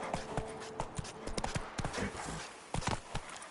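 Roach, Geralt's horse in The Witcher 3, trots along with an irregular run of hollow hoof clip-clops, fairly faint and steady, beneath a soft background bed.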